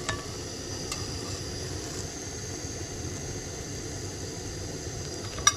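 Egg-dipped bread frying in a pan, a soft steady sizzle heard close and fairly quiet throughout, with a couple of light clicks.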